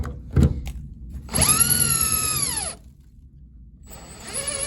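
A power drill whines at high speed as it bores out an SFIC lock core, running in two bursts with a short quiet gap between them, close and fairly faint, with no talk.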